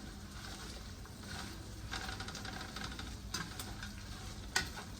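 Onions and vermicelli fry in olive oil while being stirred, a quiet steady sizzle with scraping and a sharp tap near the end.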